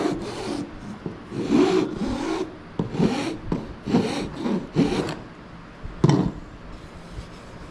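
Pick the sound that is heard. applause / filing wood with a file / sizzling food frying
filing wood with a file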